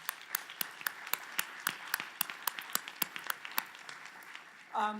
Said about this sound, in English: why don't you join me for a round of applause for all the presentations here